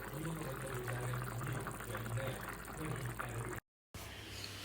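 Chicken and potato curry simmering under a lid on a low gas flame, a steady bubbling hiss with low rumbling tones, continuous and close before a brief cut near the end.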